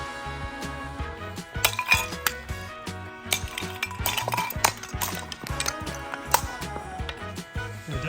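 A decorative sword strikes ugly ceramic pots in a strength test, giving a run of sharp clinks, cracks and clattering shards, irregular and close, with bursts of heavier impacts scattered throughout.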